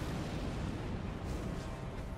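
A fireball explosion in the Elden Ring action game, a dense, sustained rumbling roar of fire and blast that fills the whole moment with no distinct separate hits and no talk.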